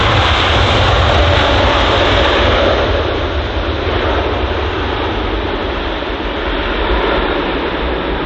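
An Air India airliner at London Heathrow, its engines giving a loud, continuous broadband roar that holds steady throughout with a slight dip midway.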